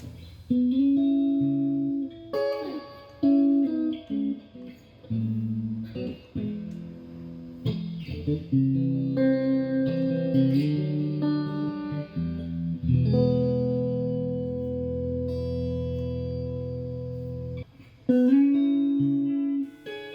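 Electric guitar played through a Fender Twin amp, chords and single notes ringing out with a wash of reverb tail, loud and close, no voices.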